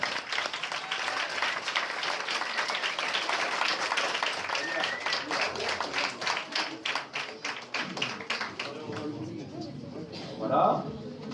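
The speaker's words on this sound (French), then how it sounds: "on peut l'applaudir." An audience claps and applauds at a Christmas show, a dense, lively patter of many hands that holds steady for several seconds before thinning out, with voices and a few cheers mixed in near the end.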